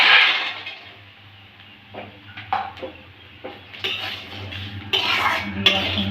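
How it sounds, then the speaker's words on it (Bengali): Almonds and cashews tipped into a pan of roasting Gobindobhog rice, producing scattered clattering bursts and scrapes of metal utensils against the pan between quieter pauses. "আমি এবার বাদামগুলো দিয়ে দেবো"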